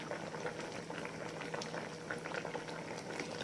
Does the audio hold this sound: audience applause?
no